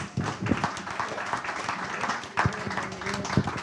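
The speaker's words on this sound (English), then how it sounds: "How about a round of applause for these 5 great candidates?" An audience claps for five candidates at the close of a candidate question-and-answer forum, a steady round of applause from a room of people, moderately quiet and somewhat distant, with a few louder nearby claps standing out.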